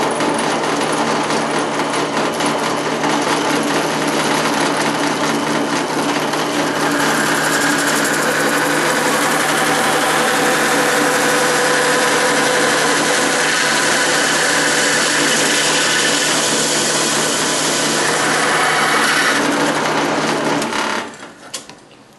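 A loud, steady whine of a power drill cutting a 2.5-inch hole in a coolant tank runs continuously for about twenty seconds, grinding at an even pitch before cutting off abruptly at the end.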